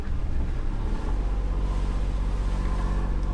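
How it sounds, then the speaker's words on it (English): A self-priming generator aboard a boat catches and settles into a steady, loud low engine drone with a constant hum, running continuously after a brief rougher start. "So the generator's up and running."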